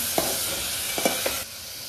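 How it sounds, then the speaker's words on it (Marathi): Onion sautéing in a pan for veg pulao, with a steady sizzle under a few sharp scrapes of a spoon stirring it, close and moderately loud, no voices. "कांदा व्यवस्थित शिजवून घ्यायचा"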